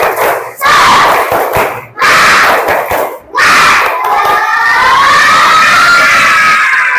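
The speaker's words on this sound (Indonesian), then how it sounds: "Yuk, tepuk semangat." A class of schoolchildren bellows a loud rhythmic clapping cheer in bursts, voices rising together into sustained shouting and chant, crowd close and energetic.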